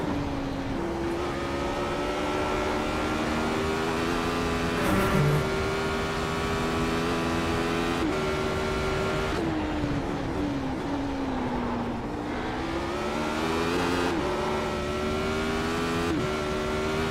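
A race car engine in the iRacing simulator holds a steady droning whine that rises and falls with throttle, briefly blipping and dipping as the driver backs off, continuous and fairly quiet with no talk.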